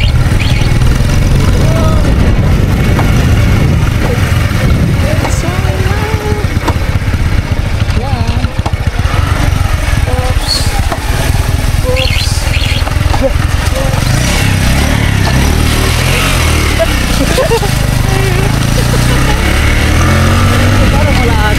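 A motorcycle engine runs steadily at a medium pitch while the bike rides slowly along a slippery farm path, close and continuous under nearly constant talking.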